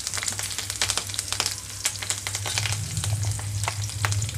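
Green chillies sizzle and crackle in hot oil for a Rayalaseema-style green chilli dal. A dense, steady hiss is broken by frequent sharp pops, with a low hum underneath.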